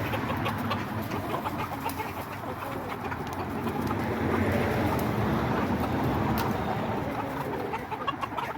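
Roosters and hens crow and cluck in a busy, continuous morning ruckus, steady and fairly loud throughout with no voices.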